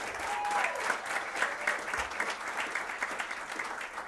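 Audience at a motivational speaking event with Les Brown gives a round of applause, a steady roar of clapping hands that holds evenly, moderately distant, with a faint voice over it.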